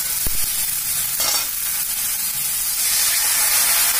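Ridge gourd and potato pieces stirred in a frying pan, a continuous close hiss and sizzle with a few brief spatula scrapes, and no voices.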